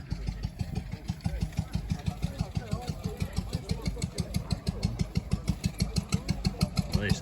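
A single-cylinder engine, apparently an old farm machine, idles with a steady, rapid thumping pulse throughout, close and fairly loud, while a voice speaks over it.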